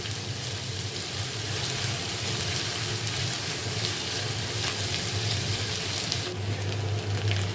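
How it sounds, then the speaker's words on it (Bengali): Fish fries in oil with ginger and garlic for fried rice, giving a steady, continuous sizzle with a faint low hum underneath. "এরপর হচ্ছে মাছটা এখন এটা ভালো করে ভাইজা নেই"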